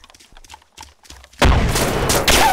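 A grenade explodes in ArmA 2 ACE, a military shooter game: a loud sudden blast follows quieter shuffling and distant sounds, and a long roaring, crackling tail with a second surge near the end.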